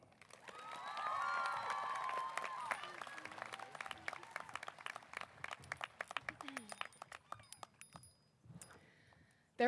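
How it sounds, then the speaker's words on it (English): A crowd at a high school graduation ceremony applauds and cheers for a speaker, with a loud wash of clapping and whoops that gradually thins to scattered claps before fading to near silence. "Round of applause for Zoe Hara."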